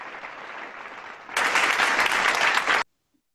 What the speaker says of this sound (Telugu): ఒకసారి స్పెషల్ క్లాప్స్ అక్క